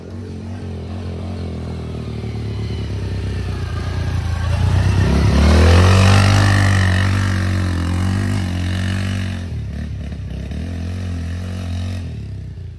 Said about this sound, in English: he's coming up right through there by my four-wheeler and coming around to right there because he's going to jump that